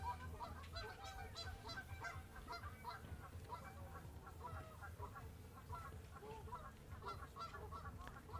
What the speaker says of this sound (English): Ashley, the geese were following our bread lady out to the water